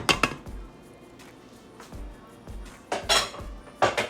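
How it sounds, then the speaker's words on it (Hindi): Metal clinks and clatter from removing the weight of a pressure cooker used for mutton palao, several sharp separate taps and knocks, louder near the end, with no talk. "प्रेशर कुकर का वेट खोल दिया।"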